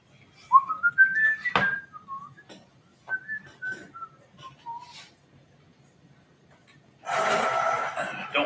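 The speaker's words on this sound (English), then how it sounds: "Don't whistle on camera." A person whistles a short, wandering tune in bright clear notes at close range, then falls quiet before a burst of rustling noise at the end.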